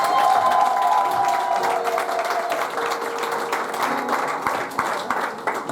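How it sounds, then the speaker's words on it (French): Wedding guests applaud inside a church during a marriage ceremony, sustained clapping and some cheering from a crowd filling the room at steady loudness, with a faint held musical tone underneath. "on applaudit s'il vous plaît"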